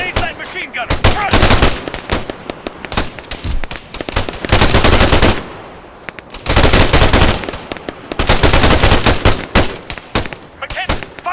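Machine gun fire in the ArmA 3 video game, loud sustained automatic bursts of several seconds each separated by short pauses, with distant shots and shouted squad commands mixed in.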